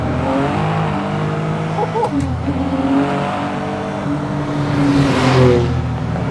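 A Totem Automobili GT Super's 670-horsepower twin-turbo Alfa Romeo V-6 pulls hard, its close, loud engine note rising through the revs with a short gap between gears and a turbo hiss swelling near the end.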